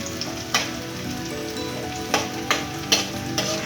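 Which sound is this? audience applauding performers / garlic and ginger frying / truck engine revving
garlic and ginger frying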